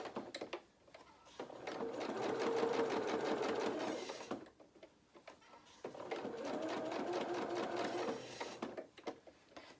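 A sewing machine stitches fabric for doll cat clothes in two long, steady runs with a short pause between them. It hums close and fairly quiet with a fast, even needle rhythm, and no one talks.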